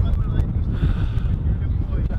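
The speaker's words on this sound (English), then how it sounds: "The wind is too much!" Strong wind buffets the microphone in loud, rumbling gusts, with a roaring low rush throughout.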